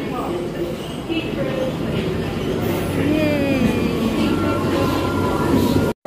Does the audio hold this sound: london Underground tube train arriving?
yes